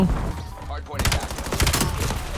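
Gunfire from the futuristic multiplayer shooter Call of Duty: Black Ops 7, set in 2035: a quiet lull, then from about one second a sustained run of rapid, loud automatic shots continuing to the end, with faint voice underneath.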